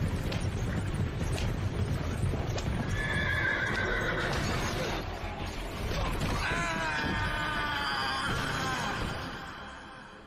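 Horses pulling a horse cart neigh loudly in long, shrill whinnies while their hooves clop steadily and the cart creaks, all close and continuous for about ten seconds.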